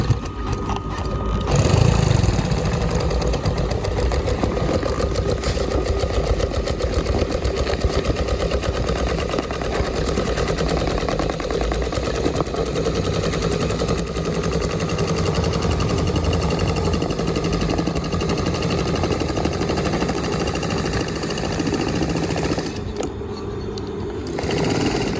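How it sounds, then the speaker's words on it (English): An old second-hand industrial Singer sewing machine runs steadily and close for a long stretch, a constant mechanical hum and rapid rhythmic chatter, starting and stopping near the ends. "always worth having an old Singer sewing machine"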